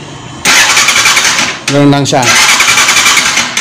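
A Honda TMX Alpha 125 motorcycle cranks on its electric starter with a loud whirring churn and fails to start. Someone speaks briefly over it, close to the microphone.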